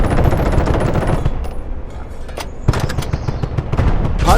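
Rapid tank gunfire and shell impacts in the video game Call to Arms: Panzer Elite, a dense burst of shots at first, a brief lull, then more sharp cracks and booms.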